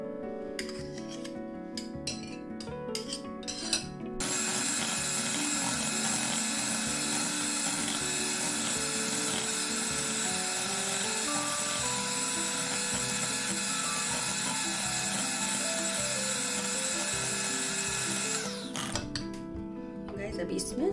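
Electric beater whipping chocolate ice cream mixture, a steady loud whirring drone that runs continuously after a few short starts, with brief speech at the beginning and end.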